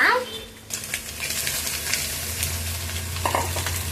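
Onions hitting a hot pan with fried prawns and stir-fried for fried rice, a loud steady sizzle with stirring scrapes after a brief quieter start.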